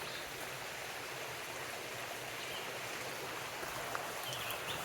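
Steady rushing of a flowing creek beside a hiking trail in Fort Mountain State Park, Georgia, a continuous close wash of water with no voices, quiet but even throughout.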